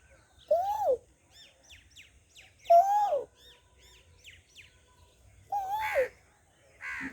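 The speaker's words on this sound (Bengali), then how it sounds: "কোকিল ডাকছে" An Asian koel calls three times at intervals of a few seconds, each a clear rising-and-falling whistled note, with softer chirps from other birds between them in a quiet outdoor setting.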